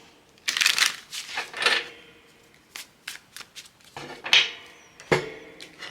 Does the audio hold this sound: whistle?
no